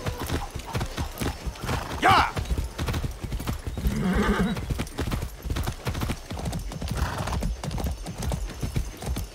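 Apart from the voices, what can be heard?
horse hooves and whinny in video game Far Cry 6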